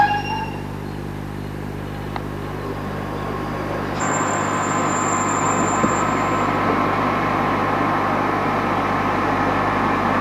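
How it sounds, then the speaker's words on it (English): Low rumbling of a Stuttgart tram idling nearby at a loop terminus, with a steady hum and a brief high-pitched squeal partway through, no talking. "There's another tram terminating the loop here."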